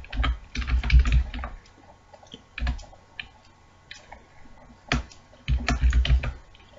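Code being typed on a computer keyboard, with bursts of close, crisp key clicks separated by short pauses and a few isolated single taps.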